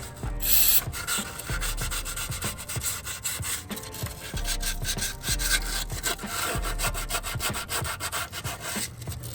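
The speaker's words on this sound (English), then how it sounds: "Kind of like wet sanding it, I guess you could say." Steady back-and-forth abrasive rubbing on a hard surface, wet sanding with brake cleaner on a 1995 Mack truck air pump part, continuing rhythmically and fairly loud throughout.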